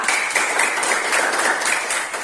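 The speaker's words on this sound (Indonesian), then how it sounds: "Tepuk tangan untuk kelompok 2." A classroom of students clapping for a group that has just presented, giving a brisk, continuous patter of hands at close range with no talking over it.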